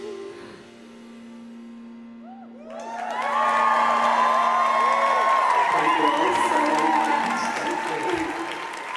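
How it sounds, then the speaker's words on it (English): Concert hall audience at the Northern Ireland Music Prize in Ulster Hall applauding a singer: after a sustained musical tone fades, loud clapping with cheers and whoops swells and holds, with a voice talking over the crowd. "Big round of applause. Come on, keep it going."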